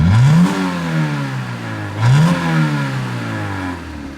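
Honda car engine idling high, close and loud, with two brief rev-like surges that settle back to a steady elevated idle hum.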